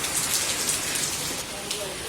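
Heavy rain pours steadily outside onto a rooftop in a village among farm fields, a dense continuous hiss close at hand with no break.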